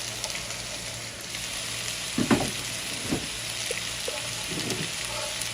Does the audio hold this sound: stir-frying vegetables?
yes